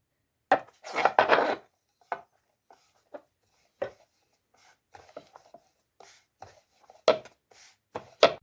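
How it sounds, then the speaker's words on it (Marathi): Paratha dough is rolled on a board at home: soft wooden knocks and rubbing strokes come in irregular bursts, fairly faint and close, with no talk. "आता आपण लाटायला सुरुवात करूया"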